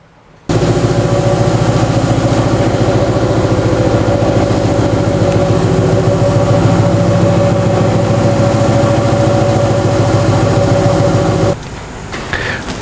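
An ATEX pneumatic drum mixer tumbling a 200-litre drum hums and rumbles at a steady, loud, close level after starting abruptly, then drops away near the end. No one talks over it.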